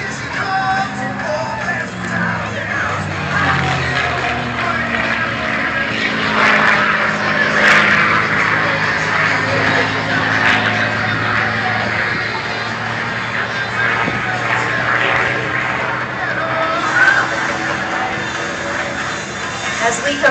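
A 1945-built P-51 Mustang fighter flying aerobatics at an airshow, a sustained droning propeller engine roar rising and falling in pitch as it climbs into a vertical, with a commentator talking over it on the PA.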